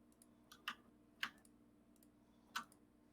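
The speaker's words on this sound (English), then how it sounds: "Typing." A few isolated keyboard key clicks, about four sharp taps spaced unevenly over a few seconds, close and fairly quiet against a low steady hum with no talking.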